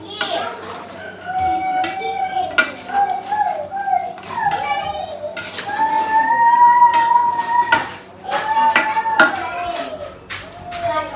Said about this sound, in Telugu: బాగా తిప్పుకోవాలి. ఇట్లా కింద మీద కలుపుకున్నామంటే వంట యొక్క అభిరుచులు అలవాట్లు తెలిసిపోతాయి